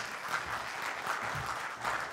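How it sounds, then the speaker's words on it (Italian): An audience at the presentation of the 18th Festival dell'Economia in Milan claps to welcome a speaker, an even, moderately quiet patter of many hands with no talk over it. "Federico Silvestri lo accogliamo con un applauso."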